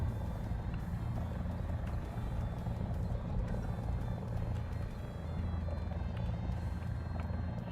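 In the War Thunder video game, a helicopter's rotor and engine make a steady, droning low rumble that holds unchanged from start to finish, with no talk over it.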